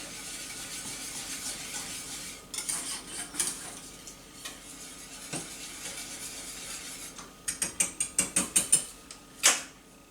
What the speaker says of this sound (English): just break this rice up because it has kind of clumped together as it was chilling in the fridge